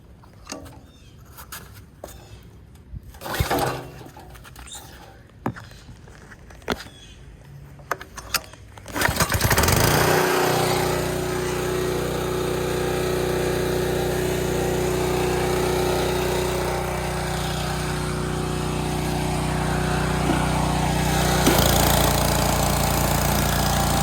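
After some clattering handling noises, the small gas engine of a Simpson pressure washer starts up and runs loudly and steadily, a constant close rumbling drone.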